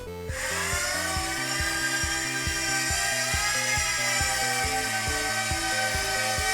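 A WLtoys Q282-G micro hexacopter drone spins up and flies indoors with a high, steady whine of small motors and a fast pulsing buzz that holds evenly, loud and close.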